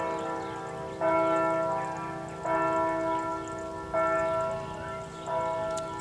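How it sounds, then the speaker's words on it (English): Church bells at a nearby abbey ring in repeated strokes, four distinct peals about every one and a half seconds, each swelling and decaying over a steady backyard hum. "I hope you can hear the bells over there at the Abbey"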